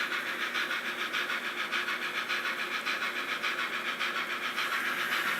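Model steam locomotive with a sound decoder running on a layout, its rhythmic chuffing steady and bright, pulsing evenly and close up as the throttle rises.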